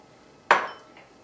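A single metallic clink of a utensil against a pot while salt and pepper are stirred into homemade chicken noodle soup, close and clear, ringing briefly and fading into quiet.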